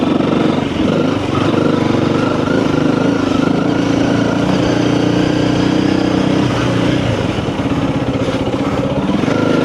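A Honda CRF300L dual-sport motorcycle rides off road, its single-cylinder engine a steady, loud drone that rises and dips slightly with throttle, with no voices over it.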